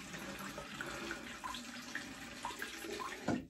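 Water runs quietly from a tap into a plastic spray bottle, a soft steady trickle with small splashes and a brief clunk near the end.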